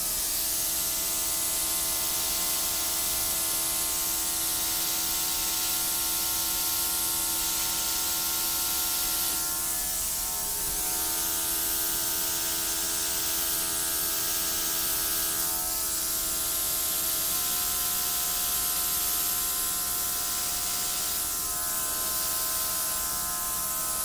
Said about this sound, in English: Cordless, battery operated airbrush.